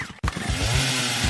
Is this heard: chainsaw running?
yes